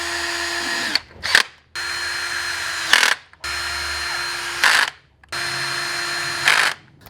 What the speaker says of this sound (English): I'm running the fasteners in for this primary cover